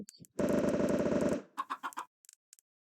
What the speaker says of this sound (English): If you want some baby chickens in your farm, you can get some baby chickens in your farm.